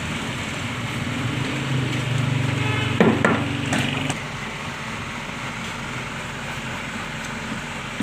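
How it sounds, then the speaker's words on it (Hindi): Metal wrench work on the body nuts of a washing machine motor: a steady mechanical whir, then a short cluster of close clanks and scrapes, with no talk. "ये जो 3 नट हैं सबसे पहले हम ये खोलेंगे।"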